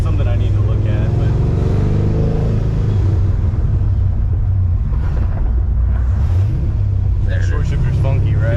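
An Infiniti G35 with a swapped-in LS V8 engine rumbles and revs loudly while driving through a gear change, a heavy steady drone dominating throughout, with someone talking underneath.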